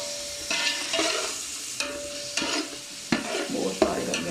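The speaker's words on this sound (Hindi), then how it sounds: "मैं प्याज़ों को लाइट ब्राउन करके इनको निकालूंगी" Onions sizzle in hot oil while being stirred, the spoon scraping the pan in repeated bursts with steady frying hiss between them. Close and fairly loud, with no talking.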